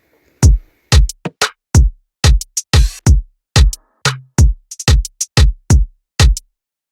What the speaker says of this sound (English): Yeah, pretty bouncy drums.